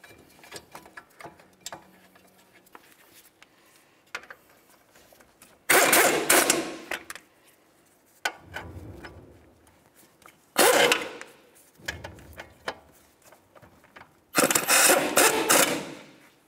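A ratchet drives brake caliper bracket bolts on a 2007-2011 Toyota Camry, coated with red thread locker, in three loud bursts of rapid clicking separated by quieter pauses of small handling noises.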